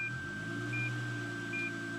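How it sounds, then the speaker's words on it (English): Short electronic beeps from a Lexus parking sensor repeat at an even pace over a steady low engine hum, three tones spaced about three-quarters of a second apart. "It's beeping because it's detecting that I'm going to hit something."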